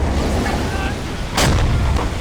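U-boat deck gun firing in the submarine video game Silent Hunter 5, a single loud boom bursting out over steady engine and sea background.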